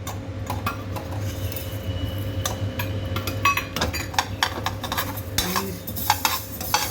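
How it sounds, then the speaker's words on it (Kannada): Mustard seeds spluttering and popping in hot oil in a pan while making puliyogare gojju powder, a steady background sizzle broken by frequent sharp little crackles, close and moderately loud. "ಸಾಸಿವೆನು ಚಟಪಟ ಅಂದ ತಕ್ಷಣನೇ ನೋಡಿ ಸಾಸಿವೆನು ಚಟಪಟ ಅಂದಿದೆ"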